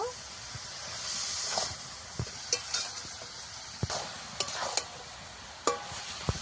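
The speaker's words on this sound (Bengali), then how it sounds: "একটু সময় নিয়ে নারকেলটাকে ভালো করে নেড়ে নিলে নারকেলটা সিদ্ধ হওয়া পর্যন্ত নেড়ে" Grated coconut is stirred in a pan over a soft, steady hiss, with scattered sharp scrapes and taps from the utensil. The sound is close and fairly quiet, and no one speaks.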